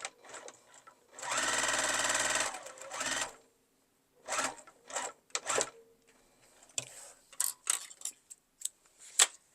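A sewing machine stitches the back piece onto a small key chain zipper pouch in one quick burst of about a second, followed by scattered clicks and handling noises.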